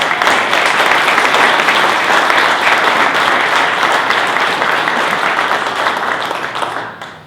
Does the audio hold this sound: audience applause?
yes